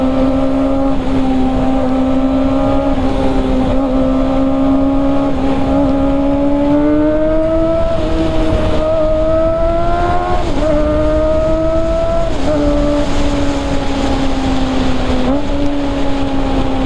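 A 700-800cc motorcycle engine hums steadily while riding, with a smooth tone that rises and dips through gear changes, loud and close with wind noise throughout.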